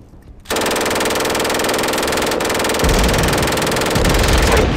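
An MG42 machine gun in a video game fires a long, loud, unbroken burst at a very rapid rate, close and harsh, with a deeper rumble joining partway through.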